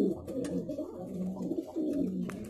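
Pigeons, including red-tailed Laldum and high flyer birds, coo steadily and close by in low, throaty, overlapping rolls that continue without a break.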